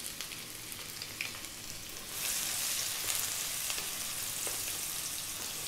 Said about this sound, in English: In goes the onion, the tablespoon of garlic,